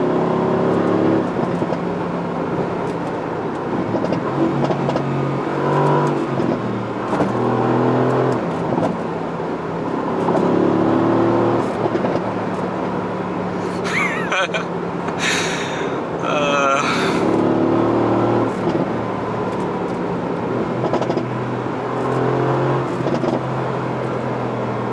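A 2018 Mercedes-AMG GT C engine revs and growls continuously, with bursts of higher-pitched throttle blips midway and faint voices underneath.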